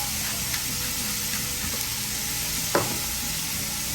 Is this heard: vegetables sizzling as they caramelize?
yes